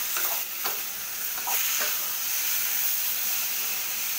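Tomatoes sizzle steadily in a hot pan while a utensil scrapes and stirs them in a few quick strokes near the start. A close, continuous frying hiss carries through to the end.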